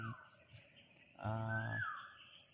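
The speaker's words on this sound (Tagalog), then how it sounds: "Yung ibon na yan ba, naririnig nyo ba mga tol?" A single harsh, drawn-out bird call rings out in the open, loud and nasal, with quiet outdoor ambience and a faint high hiss around it.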